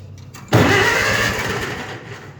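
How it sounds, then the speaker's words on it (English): An Allis Chalmers WD45 tractor engine, set in neutral with the choke out, cranks and catches suddenly, then settles into a loud, steady running rumble that eases slightly toward the end. "Oh, forgot to turn on the tractor."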